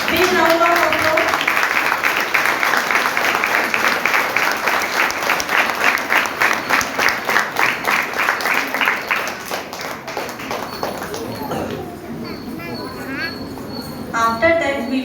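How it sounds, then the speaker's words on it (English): An audience claps loudly after a school performance by DAV Secondary School Nursery children, dense sustained applause that thins out toward the end. "Big round of applause."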